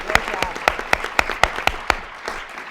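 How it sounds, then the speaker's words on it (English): Audience applause at a conference marking International Women's Day: a few sparse, sharp claps ring out at an uneven rhythm, fairly close and moderately loud, with no sustained ovation building. "we need to give a round of applause to our Femi"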